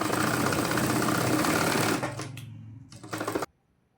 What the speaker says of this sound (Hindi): बुकरम के किनारे पे हमने सिलाई लगा देनी है